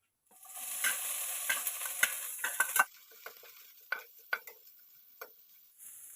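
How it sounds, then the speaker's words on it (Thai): Chillies are dry-roasted in a little oil for a papaya curry with canned fish, crackling and sizzling steadily while a utensil scrapes and taps the pan in sharp, uneven strokes close up. "เดี๋ยวจะคั่ว คั่วพริกนะคะ จะคั่วพริกให้หอมเนาะ"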